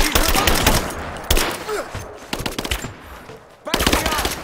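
Bursts of automatic gunfire from Rise of the Tomb Raider gameplay fire in rapid, loud volleys, broken by short pauses, with game dialogue partly heard in between.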